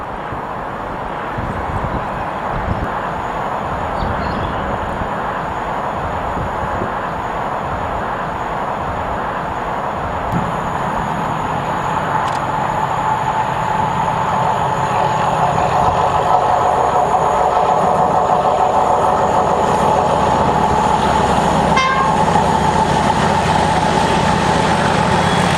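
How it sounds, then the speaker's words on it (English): Class 31 diesel locomotives 31285 and 31602 haul a test train past Severn Tunnel Junction with a loud, continuous engine roar and wheel rumble close by, swelling slightly as the train passes. "31285 and 602 power a Bristol Temple Meads to Bristol Temple Meads test train at 7 Tunnel Junction."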